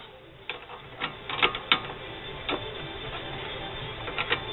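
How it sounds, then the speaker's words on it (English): A 7/16 wrench or socket tightens the rear brake caliper bolt on a 2006 Pontiac Grand Prix, making a run of close ratcheting clicks in irregular bursts over a low background hum. "finish it up with a 7/16 wrench or socket"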